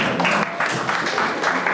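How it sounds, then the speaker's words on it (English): An audience at a lecture gives a round of applause: steady, dense clapping from many hands that holds for a couple of seconds, close and fairly loud. "Round of applause, please."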